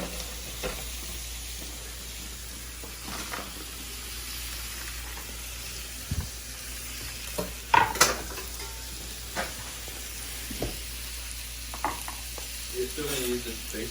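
Bacon and sausage sizzle steadily in a pan, a continuous crackling fry broken by a few louder spits and pops, with occasional stirring and faint background voices.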